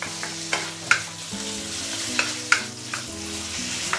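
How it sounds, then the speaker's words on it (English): Pork belly frying and charring in a pan over medium-high heat, a steady close sizzle with occasional stirring scrapes and sharp pops spread across the clip. "you are actually going to give a little bit of char onto the pork itself"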